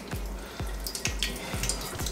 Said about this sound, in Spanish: Igual, abrimos nuestra agua caliente